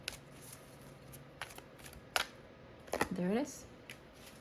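Oracle cards are shuffled and drawn from a deck in a quiet room, giving a few soft scattered flicks and slides, with a short spoken phrase over them.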